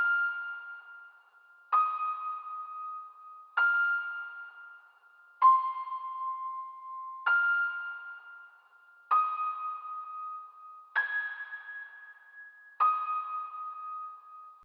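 Soft piano notes, panned slowly left and right, sound one at a time at an even, unhurried pace, each ringing out and decaying before the next, eight in all, gentle and airy.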